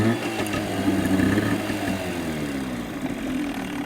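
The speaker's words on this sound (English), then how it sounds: "All right, I have her idling real nice now." A small outboard motor idling steadily after a carburetor mixture adjustment, a low, even running drone with a faint irregular putter, close and continuous, no talking.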